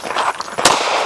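Pistol shots in a practical shooting training drill, sharp cracks at close range with one loud report standing out among rapid shots, heard against a noisy outdoor background.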